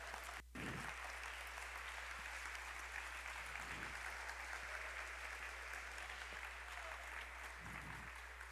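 Congregation applause during a church sermon, a long, even wash of clapping that sounds fairly distant and quiet and continues for several seconds without speech.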